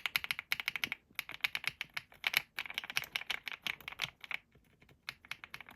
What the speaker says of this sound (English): That is a very silent switch.